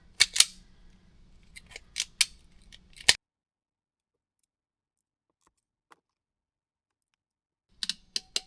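Electrical wire being cut and stripped for an air compressor hour meter: a few sharp close snips and clicks, then a long silence, and another quick cluster of snips at the end.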